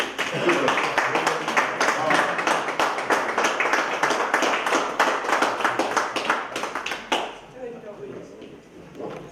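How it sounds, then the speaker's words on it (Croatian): Audience applause at a Croatian cultural society event in Bihać, dense rapid clapping sustained for several seconds before thinning out and fading, with voices murmuring beneath. "Može jedan aplauz zajednički."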